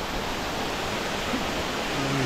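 Steady broadband rush of a waterfall in rural Nepal, a constant loud wash of falling water filling the whole clip, with a faint tonal hum near the end.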